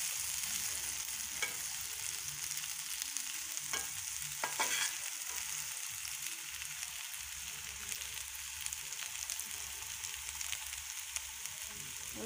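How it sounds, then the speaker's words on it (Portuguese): Potatoes for a potato omelette frying in oil in a pan give a continuous bubbling sizzle, moderately loud and close, with occasional scrapes and clicks of stirring. "Vamos deixar fritar por algum tempo."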